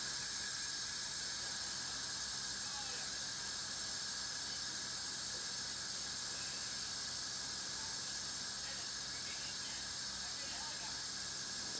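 Steady hiss of steam escaping an Instant Pot pressure cooker making pulled pork, a continuous high airy rush with a faint whistling edge, constant throughout.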